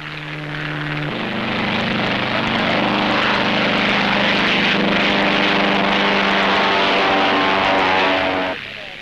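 Propeller aircraft engines roar at the start of an air race, a loud, steady drone that swells in the first seconds, holds for most of the stretch and then drops away near the end.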